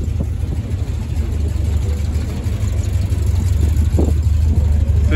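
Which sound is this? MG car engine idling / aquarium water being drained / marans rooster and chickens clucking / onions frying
MG car engine idling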